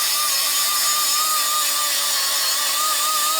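Power tool grinding down the sharp edge of a metal brace on a 1967 Barracuda crossmember, a continuous high-pitched whining, rasping buzz with slight wavering, loud and close, with no voices.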